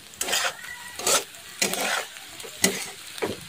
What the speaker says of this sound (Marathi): थोडं छान मिक्स करून घेऊ आपण कोथिंबीर आणि अंड्याची भाजी